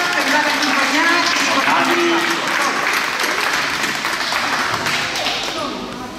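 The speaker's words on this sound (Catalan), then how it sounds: "Y ahora un aplaudiment per tots." Applause from an audience of parents and participants at a children's cooking masterclass during a town fair, a dense, steady clapping that fills the room and slowly tapers off near the end.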